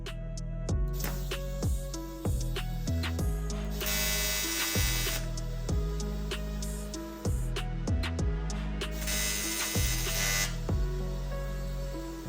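TIG welding tacks an intake manifold in a series of repeated buzzing bursts, each starting and stopping sharply, with a couple of longer steady stretches between shorter tacks.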